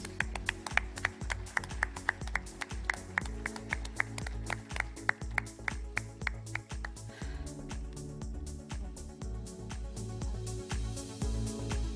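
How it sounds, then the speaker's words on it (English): Summit audience applauding a felicitation on stage, a steady run of sharp, fairly distant hand claps at a regular rhythm that thins and fades into a softer wash near the end. "Ladies and gentlemen, huge round of applause."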